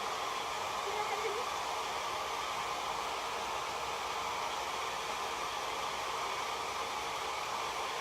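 Handheld dryer blowing hot air over chalk paste on a transfer, a steady loud hiss that runs unbroken and alone throughout.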